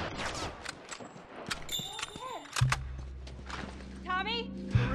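Hunting rifle gunfire in The Last of Us, a few sharp cracks mixed into a busy game soundscape with shouting voices, horse movement and other effects, loud and close.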